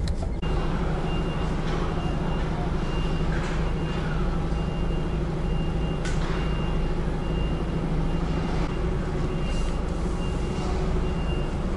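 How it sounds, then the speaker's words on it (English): Heavy trucks idle and manoeuvre around a crowded loading area in Monaco, engines rumbling continuously with a steady reversing beep and occasional hiss of air brakes. "There's just 4 or 5 trucks just constantly circling round because there's literally nowhere to park."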